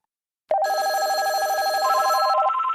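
A telephone rings for an incoming voicemail: a sudden, loud trilling electronic bell that starts after a brief silence and warbles steadily for about two seconds before its pitch steps up, with no voices.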